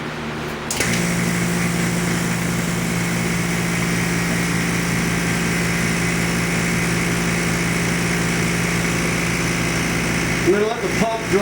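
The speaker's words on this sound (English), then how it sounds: "I'm going to let the pump draw as much of the moisture out of it as I can" A vacuum pump draws moisture out of nitrated milkweed floss, a loud, steady mechanical drone that holds unbroken for about ten seconds before cutting off with a brief rattle.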